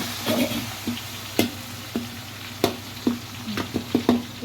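Blended onion paste mixed with chopped onion fries in a pan for chicken gravy masala, a steady close sizzle broken by repeated scraping stirs that come in short bursts, with no voices.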